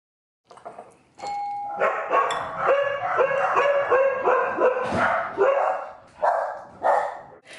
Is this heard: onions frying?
no